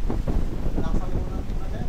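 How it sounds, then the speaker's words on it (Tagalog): Strong wind roars steadily against the microphone at a house under construction, a dense, loud, continuous rumble with gusty fluctuations throughout. "Ano yung malakas na hangin na yan?"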